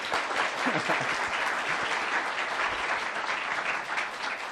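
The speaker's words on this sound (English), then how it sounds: "A round of applause for Luke here." A room full of people at a pickpocketing competition applauds steadily, dense clapping sustained at an even level throughout.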